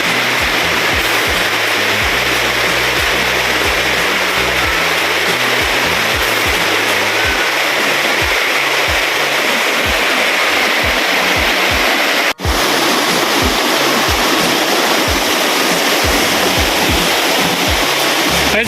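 Diguisit Falls in Baler, Aurora pours in a loud, steady roaring rush of water, close and unbroken throughout.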